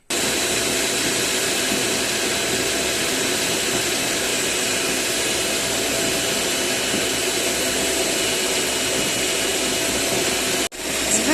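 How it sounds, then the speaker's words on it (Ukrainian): Electric mixer whips egg whites with a pinch of salt toward stiff peaks, a loud constant whirring drone that holds steady before cutting out briefly near the end. "Білки збиваємо до стійких піків, додавши трошечки солі."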